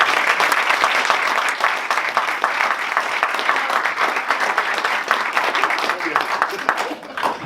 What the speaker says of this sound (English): another round of applause for Beth